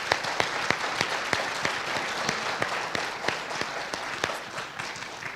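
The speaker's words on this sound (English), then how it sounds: "So I just want a round of applause for them right now." Loud, sustained applause from a crowd at a high school college signing day, dense clapping with sharp individual claps standing out, continuing steadily throughout.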